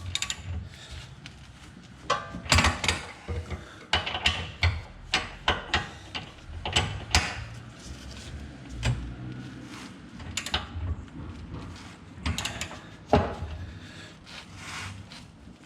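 A ratchet turns a 17 mm bolt to press a ball joint into a camber arm on an Acura TSX project car. Close, uneven clicking and clunking comes in bursts, with scraping handling noises between.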